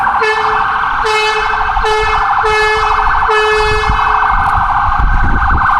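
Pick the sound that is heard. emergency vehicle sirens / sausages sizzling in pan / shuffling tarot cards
emergency vehicle sirens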